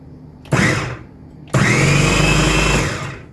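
Elechomes meat and veggie processor with a glass bowl, a short motor burst followed by a longer steady high whirring run of about a second and a half, loud and close, with no voices.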